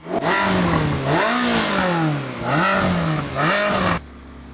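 A neglected, repaired Ferrari 360 Spider revs hard as it pulls away, the engine note climbing and dropping through several gear changes before cutting off abruptly near the end. It is loud and close with no talk.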